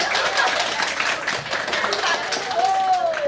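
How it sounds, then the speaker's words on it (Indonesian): A school class applauds together: a loud, steady patter of many hands clapping that continues throughout, mixed with a voice talking over it. "Kasih aplaus untuk kita semua"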